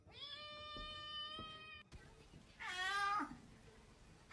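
Domestic cat meowing, two distinct calls: a steady, tonal meow followed after a short pause by a louder, rising-and-falling meow, both close and clear over quiet room noise.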